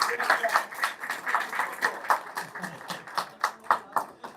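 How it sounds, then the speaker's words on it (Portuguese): An audience at a union meeting applauds new members, a moderate, steady round of hand clapping heard from some distance, fairly faint overall. "Uma salva de palmas para os novos filiados."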